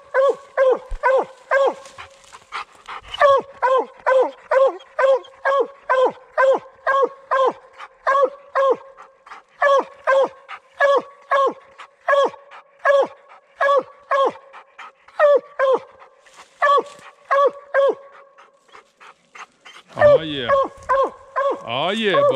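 A coon hound bays repeatedly at a raccoon treed during a night hunt, a steady run of loud, rhythmic barks close by, ending in a brief higher whine or howl.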